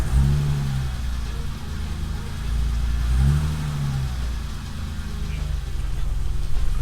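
BMW E28 535is from 1987 with a 5-speed manual, its engine running and revved in a couple of low swells over a steady idle rumble, close by.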